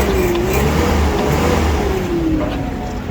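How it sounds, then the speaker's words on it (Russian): A 4-cylinder petrol engine in a Mitsubishi FG15 1.5-ton Japanese forklift with automatic transmission revs close up, a loud, steady, rough drone whose pitch rises slightly and then eases back down. "Здесь двигатель также работает четко"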